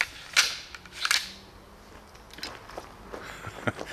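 A repeating Chinese crossbow, modified and shooting in slam fire mode, lets off two sharp, close snapping shots in quick succession, then a few lighter mechanical clicks and clacks.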